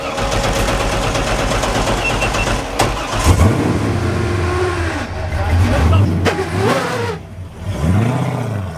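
A drift car's engine starts at a racetrack event and revs loudly, rising and falling in pitch. Engine noise fills the whole stretch, with voices heard over it.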